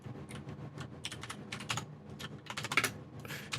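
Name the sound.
typing on a computer keyboard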